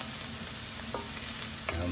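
Garlic fries in a pot for a chicken stew, giving a steady close sizzle with a few light stirring scrapes over two seconds.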